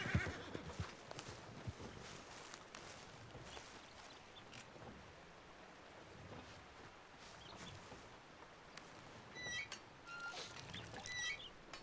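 A horse whinnies and hooves clop faintly in an outdoor setting, with background noise and occasional bird chirps.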